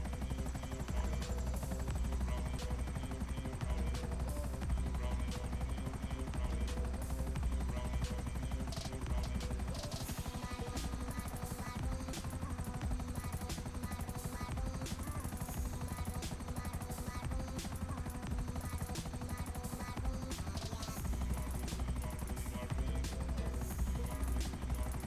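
A helicopter in a GTA game flies toward a beach: a steady, dense rotor and engine drone fills the whole stretch, with bursts of gunfire-like crackle layered in.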